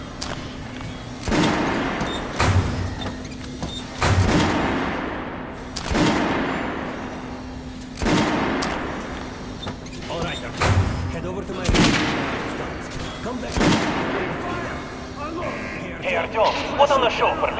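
Weapons fired at training dummies in Metro Last Light Redux, loud single shots every two seconds or so with a steady low hum between them; a voice briefly talks near the end.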